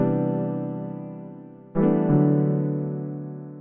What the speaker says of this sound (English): Very beautiful sound, nice soft piano sound.